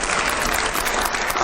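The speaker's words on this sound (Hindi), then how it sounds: "जोरदार तालियां मदनी साहब के लिए" Steady, dense applause fills a TV studio for Maulana Mahmood Madani, president of Jamiat Ulama-i-Hind, a continuous close clatter of clapping hands with no talk over it.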